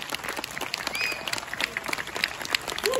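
Audience applauding at the end of a jazz fusion concert: steady crowd clapping with scattered cheers and whistles throughout.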